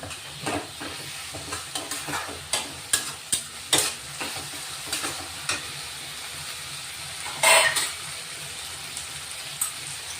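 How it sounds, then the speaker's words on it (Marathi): Garlic, ginger and chili paste hits a hot pan for a prawn fry and is stirred, giving steady sizzling frying with repeated scraping spoon strokes and a louder burst of hiss near the end, close and without voices. "लसूण अद्रक आणि मिरची वाटून घेतली ती आपण टाकून घेऊ आता"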